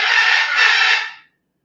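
A pet bird calls loudly indoors in one shrill, raspy squawk lasting just over a second, then the room goes silent.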